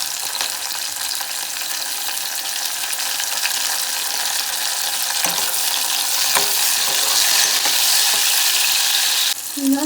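Chopped tomatoes land in a pan of golden fried onions for egg biryani, giving a loud, steady sizzle and hiss throughout with faint stirring scrapes and an occasional clink.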